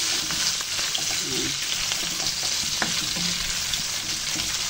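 Beef frying in a pan for a black pepper beef dish, a loud, dense, continuous sizzle heard up close with faint bubbling and stirring knocks, no voices over it.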